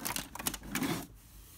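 A printer runs through a document in a short burst of fast mechanical clicking and whirring, close by and moderately loud, ending abruptly into quiet.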